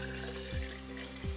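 Distilled water pours into a measuring cup, a close, quiet trickle with gurgling glugs as the stream flows.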